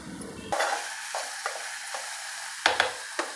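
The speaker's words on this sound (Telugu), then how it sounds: "బీరకాయ ముక్కలు వేస్తాం." Ridge gourd pieces drop into a pan of frying onions with a burst of sizzling, followed by a few sharp stirring scrapes and a steady, fairly quiet sizzle.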